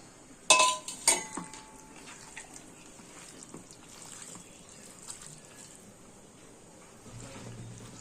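Potatoes being mixed with spices in a bowl for a chicken curry, with a couple of sharp clinks at the start followed by soft, quiet rustling and scraping, and faint water near the end.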